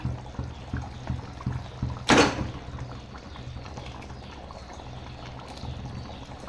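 Pieces of catla fish drop into a wide cooking pan for Tamil-style fish curry, making one brief, clear splash-like sizzle around the middle against a steady low kitchen background.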